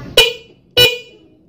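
Two car horns wired through a single relay give two short honks about half a second apart, loud and close, each fading into a brief ringing tail.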